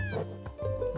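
Litten, the fire-type cat Pokemon, gives its cry in the game Pokemon Sun, a short pair of tonal, meow-like electronic calls, clear and close.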